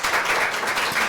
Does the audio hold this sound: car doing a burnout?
no